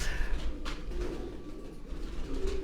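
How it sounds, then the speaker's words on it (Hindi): A white Jaunsra pigeon coos softly amid low background rumble, its faint, repeated murmuring calls spread across the moment with no talking. "ये जौनसरा कबूतर है, वाइट कलर है इसका"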